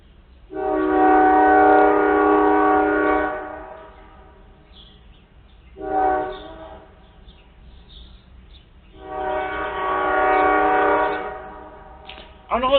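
A train horn sounds loudly at a level crossing in three long harmonic blasts, the middle one shorter, with quieter rumbling gaps between them and no voices.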